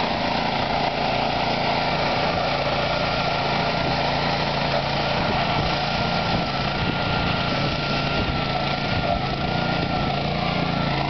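A trail mower engine runs continuously while mowing, giving a loud, steady, buzzing drone with a rough vibrating texture and no pauses or talking.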